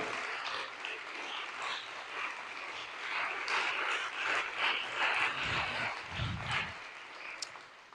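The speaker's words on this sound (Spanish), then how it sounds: "Den un gran aplauso al Señor" A church congregation applauding in praise during a Spanish-language Sunday service, a sustained crowd clapping at moderate distance that swells and ebbs, with a few low rumbles and a sharp knock near the end.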